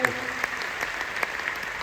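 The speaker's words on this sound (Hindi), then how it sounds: "तो कैसी ताली होनी चाहिए आप लोग को, अपने आप पर ताली लगाए।" Seminar audience applauding, a dense steady patter of many hands clapping at moderate distance, continuing briefly without a break.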